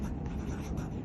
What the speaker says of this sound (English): I can write with a pencil on the wet page.